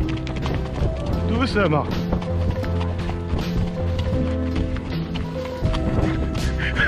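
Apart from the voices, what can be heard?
horse hooves on a trail ride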